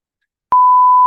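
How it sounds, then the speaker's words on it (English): A single steady censor bleep cuts in halfway through, a pure continuous tone held loud and unbroken to the end after a silent start. "Beep."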